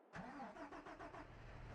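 A tractor engine in Farming Simulator 22 cranks and catches abruptly, then settles into a chugging, pulsing idle, moderately loud and close with no voices.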